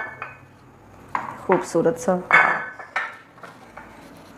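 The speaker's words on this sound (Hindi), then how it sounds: "एक बर्तन लेते हैं बड़ा" A large cooking pot clanks and scrapes against other metal cookware in a home kitchen during dessert preparation. Several close, sharp knocks come in a short cluster while someone speaks over them.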